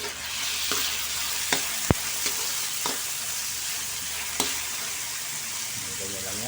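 Tomatoes sautéing with garlic in a frying pan, giving a steady loud sizzle throughout, with a few sharp clicks and taps from stirring, close by.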